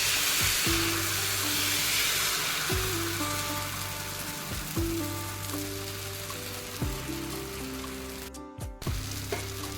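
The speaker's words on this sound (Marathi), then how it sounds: "आता आपण हे बॅटर टाकताना आपल्याला गॅस फास्ट ठेवायचा आहे" Rice flour batter hits a hot pan on high heat with a loud, steady sizzle that runs throughout, broken by a few soft clinks and scraping touches near the end.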